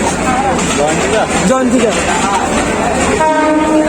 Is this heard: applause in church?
no